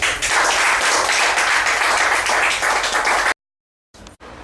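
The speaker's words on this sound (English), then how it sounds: "a round of applause for him" Loud, close audience clapping for a graduate at a 2013 CSEC graduation ceremony. It fills the room for about three seconds and then cuts off abruptly into silence, followed by faint room noise.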